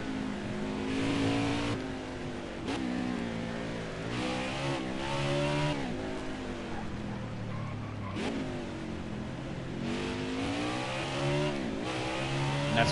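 A NASCAR Heat 4 Cup race car howls through repeated throttle surges at the Sonoma road course, its engine note rising and falling in continuous, loud sweeps with no talk over it.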